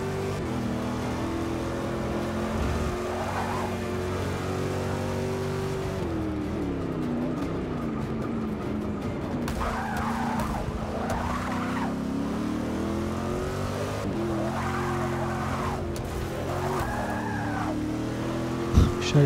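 A Chevrolet Corvette driven in the racing game Forza Motorsport 6, its engine droning steadily with repeated rising and falling revs and tire screech through corners, loud and continuous throughout.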